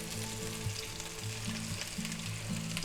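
Parmesan crusted pork chops fry in a hot pan, giving a steady close sizzle and crackle with low bubbling pops throughout, no talk over it.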